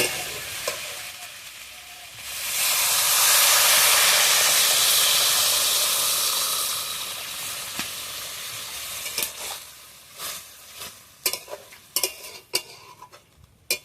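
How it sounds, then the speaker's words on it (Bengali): Water poured into a hot pan of pumpkin greens curry with jackfruit seeds, papaya and shrimp bursts into a loud, sustained hiss and sizzle, then fades into lighter bubbling with sharp clinks of a spoon stirring against the pan. "তরকারিটা ভালোভাবে কষিয়ে নিয়েছি, এবার আমি জল দিয়ে দেবো।"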